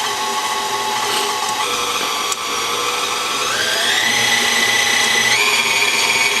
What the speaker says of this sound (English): I have my stand mixer, and in it I have the butter, and I'm going to add the sugar, and then I'm going to beat it